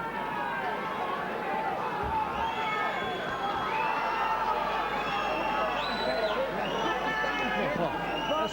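Crowd at a 2003 national senior boxing final, a continuous dense roar of cheering and shouting voices that stays loud and steady throughout, with a commentator talking over it.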